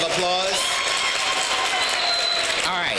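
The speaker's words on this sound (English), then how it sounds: "Let's give the principal a big round of applause." Audience at a public board of education meeting applauds in a loud, sustained burst of clapping throughout, with a voice talking over it.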